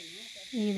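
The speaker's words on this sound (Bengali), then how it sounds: "শুধু ঝিঝি পোকার ডাক।" Crickets chirp in a pine forest as a steady, high continuous drone throughout, with a low voice-like tone rising underneath toward the end.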